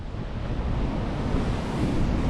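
Strong wind buffets the microphone at a rocky shore, Dogheads Rock, as waves wash in beneath it, making a loud, continuous roar and rumble with no speech.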